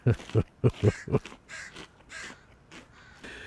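Several loud, close crow caws in a quick series, followed by fainter, more scattered calls.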